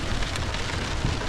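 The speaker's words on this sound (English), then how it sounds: "just the sheer force of the wind and rain" Wind and rain beat on a tent during a mountain storm, a dense steady patter with gusty roar, close and continuous over a short stretch.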